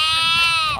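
A single close, loud bleat from a goat or sheep among grazing goats in a mango orchard, a wavering tone that fades at the end.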